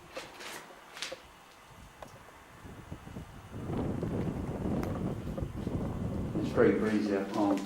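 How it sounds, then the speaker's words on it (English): Wind gusts through a watch office at night, a soft rushing hiss that swells louder midway and keeps blowing, with faint murmuring voices. "It's very breezy, I can't, it's too windy in there."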